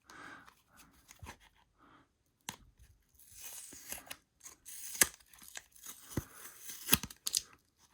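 Tape and packaging being torn off a mailed package of trading cards, with irregular ripping and crinkling bursts and a few sharp snips, close and moderately loud, with no talking.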